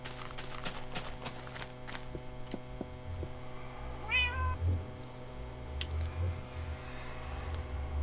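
A cat meows a few times at close range against a steady background hum, with faint thumps and footstep-like knocks scattered through.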